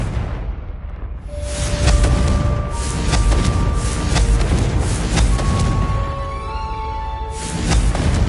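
The Confringo blasting curse explodes in the Hogwarts Legacy game as a loud, rumbling boom. A chaotic roar follows, with bright magical tones ringing over it and a second surge of noise near the end.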